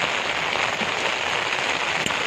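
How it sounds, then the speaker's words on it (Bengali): Heavy rain pours down outdoors beside a fast-flowing river, a dense continuous hiss of drops that stays loud and even throughout, with one brief sharper patter near the end. "যা বৃষ্টি হচ্ছে, জল বেরোচ্ছে আর স্রোতটাও দেখো না"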